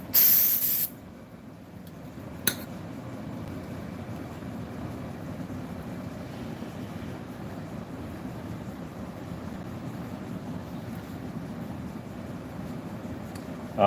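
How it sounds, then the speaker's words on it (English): Sealant is sprayed during upholstery seat fabrication work, heard as a steady, close aerosol hiss that runs on for many seconds after a loud opening burst and a brief sharp click. "Alright, Wes, let's spray that."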